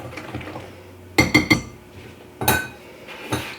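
A utensil knocks against a mixing bowl while an egg is stirred into a thick, brownie-like batter, giving a few sharp clinks in a quick triple burst, then two more spaced taps, close and fairly loud.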